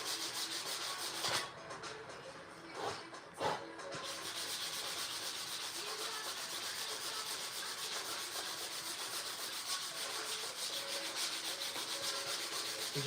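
Edges of a Padauk wood phone stand being sanded, a steady, close, continuous abrasive rasp with a couple of short louder scrapes near the start and no talking.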